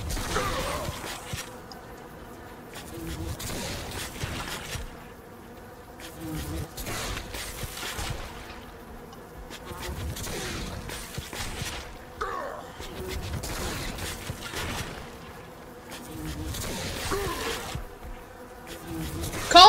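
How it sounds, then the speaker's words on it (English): A swarm of bees buzzes in Saints Row 3, a dense droning hum that swells and ebbs in waves for about twenty seconds, mixed with game clatter and occasional breathy vocal sounds. "The rage inside the tormented man could not be subdued with mere bees!"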